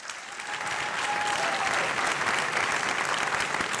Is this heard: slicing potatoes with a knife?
no